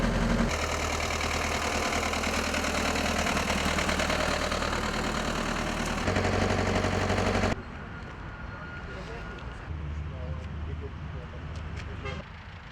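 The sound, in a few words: tractor engine idling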